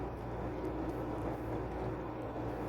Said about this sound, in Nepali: प्लेन उड्यो त्यहाँ माथि